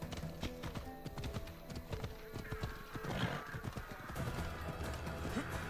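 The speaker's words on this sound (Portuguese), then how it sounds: "E aqui um cavalinho." Hooves clip-clop rhythmically as a horse gallops in the ancient Greek action game Assassin's Creed Odyssey, with a whinny rising midway, the game's ambient sound beneath, moderately loud and continuous.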